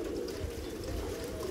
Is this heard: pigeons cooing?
yes